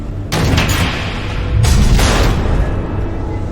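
Missiles exploding in the video game Batman The Enemy Within, with two loud, rumbling blasts a second or so apart, each rolling into a heavy low roar that lingers.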